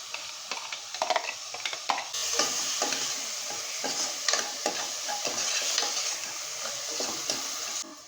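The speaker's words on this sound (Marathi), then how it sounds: "आता मी ह्याच्यामध्ये ॲड करते आहे दोन मोठे टोमॅटो त्याला मी चॉप करून ॲड करते आहे" Chopped tomatoes frying with ginger, garlic and chili for a bottle gourd and chana dal sabzi, a steady close sizzle with repeated stirring scrapes throughout, no talking.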